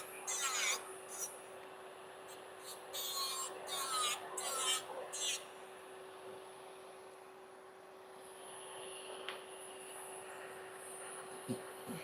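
Fingernails are filed with a nail file in short, close, scratchy bursts that come in quick repeated strokes and then taper into quieter, sparser rubbing over a faint steady hum.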